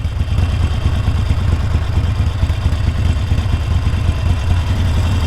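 A Harley motorcycle engine rumbles at low speed on the road, a loud steady low idle-like throb with slight uneven jerks, heard close with no talk.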